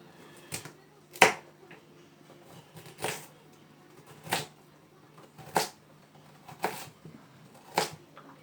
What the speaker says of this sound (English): cut my carrots into fine slices